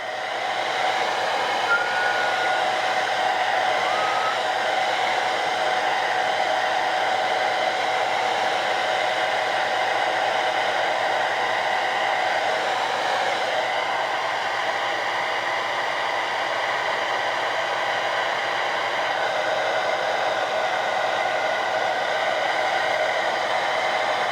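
A hair dryer drying a craft mat project, blowing as a loud, steady whooshing whine that runs unbroken for over twenty seconds with no talking.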